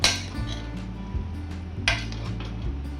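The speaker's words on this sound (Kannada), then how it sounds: "ನೋಡಿ, ಇದನ್ನು ನಾವೀಗ ಕರೆಕ್ಟಾಗಿ ಮಿಕ್ಸ್ ಮಾಡಿಕೊಳ್ಬೇಕು." A spoon stirs cooked white pulao inside a pressure cooker, producing close metallic clinks and scrapes in an uneven rhythm with soft thuds of rice between them.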